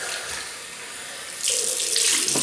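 A bathroom tap runs steadily for rinsing during a wet shave with mentholated shaving cream, a close, loud rushing hiss that grows fuller and splashier halfway through as water hits the sink, with no talking.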